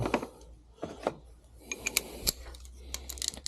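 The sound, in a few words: 10mm socket loosening starter solenoid bolts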